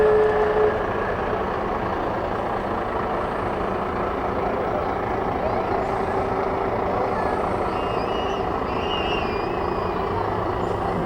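The Beekman Town Fire Department fire truck rolls past in a small-town parade with a loud, steady engine rumble and a brief high tone near the start. Faint crowd sounds and talk sit underneath.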